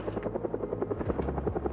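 A helicopter in the video game Project Zomboid thrums with steady rapid rotor chopping and a low engine drone, fairly loud and continuous with no voices.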